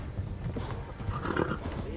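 Horse galloping in the video game Kingdom Come Deliverance, rhythmic hoofbeats heard faintly among game sounds and a brief whinny.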